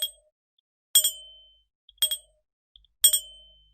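Cheap non-WiFi doorbell chime rings three times at roughly one-second intervals, each a bright metallic ding-dong pair that decays quickly, loud and close in an otherwise silent room.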